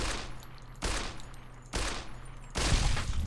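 Gunfire from the video game Fallout New Vegas, with three or four loud, close shots spaced under a second apart, each trailing off into a rumbling decay.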